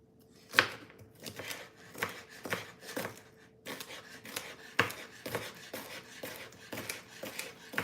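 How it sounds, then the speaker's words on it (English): A knife cuts celery lengthwise on a cutting board, giving a series of crisp, close chopping taps at an uneven rhythm, with no talk. "I make a few slices lengthwise so it makes it easier to cut them."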